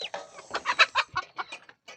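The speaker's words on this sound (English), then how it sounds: "In the village, we don't have stress. We've got chickens." Chickens clucking close by in a rural village in South Africa, a rapid run of short, choppy clucks with brief gaps, clear and fairly loud.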